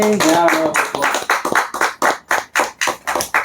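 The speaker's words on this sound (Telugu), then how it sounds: "ఓకేనా ఓకేనా చప్పట్లతో ఒకసారి" An audience claps when asked to, fast and loud at first and then settling into a slower unison rhythm of about a dozen distinct claps.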